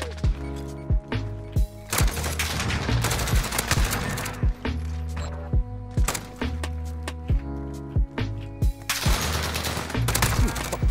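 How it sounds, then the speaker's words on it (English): Rapid automatic gunfire in a Modern Warfare Search and Destroy match, bursts of close, loud shots cracking in quick runs with brief gaps, over a steady tonal game backdrop. "I'm getting shot from two ways over here"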